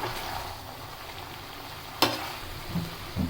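Spices being stirred into raw jackfruit curry in a pan: a steady soft sizzle with faint scraping, one sharp clack of the utensil against the pan partway through, and a couple of low knocks near the end.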